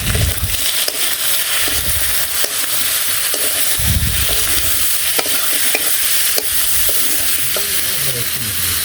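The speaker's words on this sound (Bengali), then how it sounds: "ভালো করে লাল লাল করে কষে নিলাম" Spices being stirred and sautéed in a pan with salt, turmeric and chili powder, a steady loud sizzle of frying under repeated scraping strokes of a spoon, with no talking.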